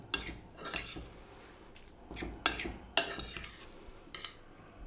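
Vegan bean salad being tossed in a bowl with mustard and chili, giving a few scattered clinks and scraping stirs of a utensil against the dish, close and fairly quiet, with no talking.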